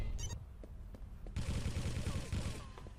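Machine gun in the video game Quake 3 fires a rapid continuous burst after a few isolated shots, a dense chattering rattle at moderate loudness.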